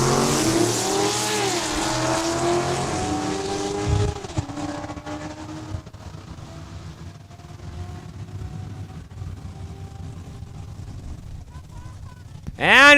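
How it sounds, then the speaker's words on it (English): A supercharged 2008 Corvette drag racing at Saskatchewan International Raceway, its engine roaring loud and close through the first seconds, then fading into distant rumble before a sharp rise at the end, with an announcer talking over it. "He's got the 2008 Corvette with the supercharger on her."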